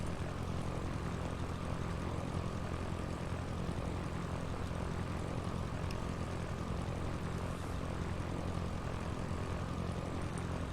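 Cessna propeller engine in Pro Pilot '99, a steady droning hum at constant power throughout, close and continuous with no other sounds.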